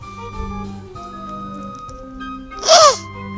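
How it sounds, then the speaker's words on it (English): A single loud, sharp human sneeze bursts out near the end over a steady low electronic hum, close to the microphone. "gotta sneeze."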